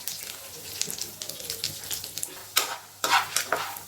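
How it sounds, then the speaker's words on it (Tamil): Peanuts sizzle and crackle in hot oil, with stirring scrapes and a couple of louder splattering bursts toward the end. "நல்லா எண்ணெயில் அப்படியே பொரிஞ்சிடும்"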